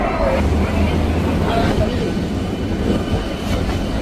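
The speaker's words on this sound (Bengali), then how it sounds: "ছেড়ে দিল আমাদের ট্রেন শিয়ালদা স্টেশন থেকে" A passenger train departing Sealdah station in Kolkata rumbles steadily along the rails with a continuous low roar, close by, faint voices now and then beneath it.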